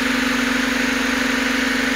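A Honda Civic engine idles steadily after a cylinder head gasket replacement, a smooth, even hum with a faint regular pulse, close and uninterrupted by talk.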